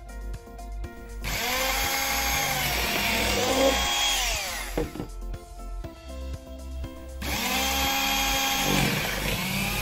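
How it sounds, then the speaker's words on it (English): Rasor Optima 702 electric powered shears cutting industrial textile, a steady, loud motorized whine running in long sustained bursts with brief dips between cuts, no talking. "Rasor Electro Powered Shears Optima 702 is designed to cut any kind of industrial textiles and elastomers up to 15 mm thickness."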